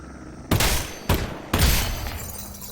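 Three heavy gunshots boom from a Campaign+ mod video game, each a sharp close blast with a lingering rumbling tail, spaced about half a second apart.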